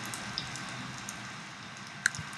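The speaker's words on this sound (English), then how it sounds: "you can hear the rain in there as well" Rain in a film soundtrack: a faint, soft hiss of falling rain with scattered light drop ticks and one sharper patter, steady and quiet throughout.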